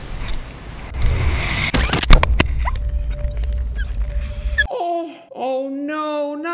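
A small dog whimpers and yelps in a horror film, thin high cries that follow some thuds and rustling, then grow louder and closer near the end, with no one talking over them.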